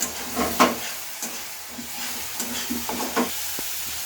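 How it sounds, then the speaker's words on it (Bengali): A pot of curry with added water is stirred and cooked down, giving soft scraping stir strokes at a slow, irregular pace over a faint low simmer, close and fairly quiet with no talk. "আমার মা জল দিয়ে আর একটু কষিয়ে নিচ্ছে।"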